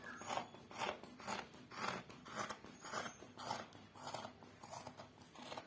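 Scissors cut through fabric along a drawn pattern line in steady repeated rasping snips, about two per second, quiet and close with no voices.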